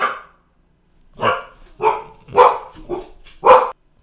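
A dog barks five times close by, loud separate woofs at a steady pace with brief pauses between them, and no other sound.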